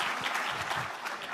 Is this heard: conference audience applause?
yes